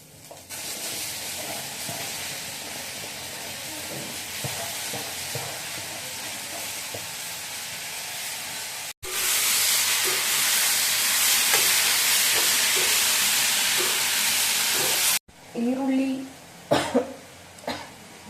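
Onion and tomato frying in a pan for tomato gojju, a continuous loud hiss that surges louder partway through. A few coughs and brief voices come near the end.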